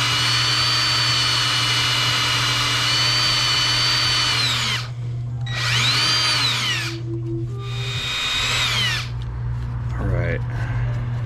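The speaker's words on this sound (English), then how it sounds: "Let's try this again with a standard drill bit." A power drill whines in repeated bursts, its motor pitch rising and falling as it bores into the metal block of an LS 5.3 engine, over a steady low hum.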